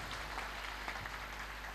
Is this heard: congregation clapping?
yes